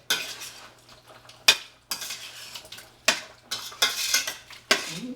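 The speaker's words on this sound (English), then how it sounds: "I am going to stir it around some because I like for the sugar to get well mixed into the carrots." Spoon stirring carrots and sugar in a cooking pot, with a run of separate scraping, clinking strokes against the metal, close and fairly loud with short quiet gaps between.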